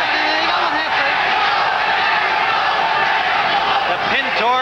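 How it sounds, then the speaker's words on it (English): A boxing crowd in a sports pavilion roars a steady rhythmic chant of Mexico for the fighter Lupe Pintor, loud and continuous and filling the hall. "The Pintor crowd here in the sports pavilion exhorting their champion with chants of Mexico, Mexico"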